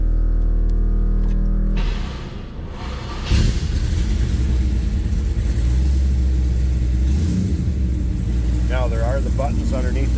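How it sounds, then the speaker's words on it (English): A 1963 Chevrolet Impala Custom engine idles with a steady low rumble, loud and close, while a person talks briefly near the end. "Let's go ahead and fire this up so you can hear it run."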